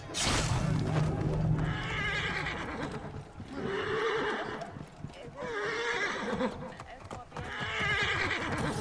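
In the video game Assassin's Creed Origins, repeated horse neighs and whinnies sound over clip-clopping hooves, loud and close, with a voice talking at times.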